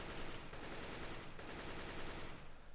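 AK-47 fire in CS:GO, rapid dense gunshots in short bursts with brief gaps near the start and middle, loud and close, trailing off at the end, no talk.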